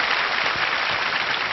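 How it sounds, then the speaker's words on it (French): A studio audience on a 1998 French television show applauds Philippe Castelli, a dense, steady clapping wash that stays loud and even for the whole brief moment, with no voices over it. "on applaudit Philippe Castelli"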